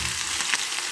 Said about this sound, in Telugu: ఇప్పుడు మనం పచ్చిమిర్చి వేస్తున్నాం.